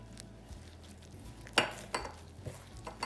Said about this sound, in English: I'm gonna add in the oil, also the melted butter,